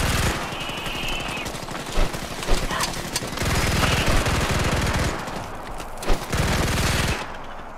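Rapid automatic gunfire from a weapon in Starship Troopers Extermination, loud bursts of fast rattling shots with brief pauses between them, then a sudden stop near the end.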